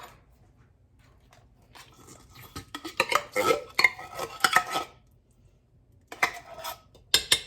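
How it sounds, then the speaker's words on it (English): Thick canned soup going into a pot of chicken stroganoff, with a run of close clinks and scrapes of a utensil against the pot, then a pause and a few more scraping knocks. "Next, I'm going to add my soup."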